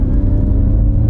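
A car launches hard from a standstill on a small drag strip, its engine and road noise a loud, steady, low rumble with a rising whir, close and continuous throughout.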